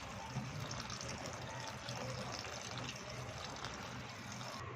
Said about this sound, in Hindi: ये देखिए मिर्चों को अच्छे से हमने धो लिया।